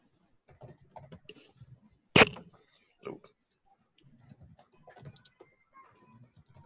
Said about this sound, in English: I'm sorry if you're picking up keyboard noise